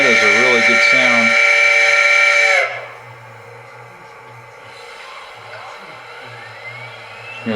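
Model steam locomotive fitted with a TCS WOW heavy steam sound decoder, a loud whistle-like tone sounding at first, then cutting to a low, steady dynamo hum with faint mechanical ticks, close by and with no one talking over it.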